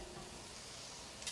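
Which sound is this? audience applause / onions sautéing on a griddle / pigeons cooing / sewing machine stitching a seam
onions sautéing on a griddle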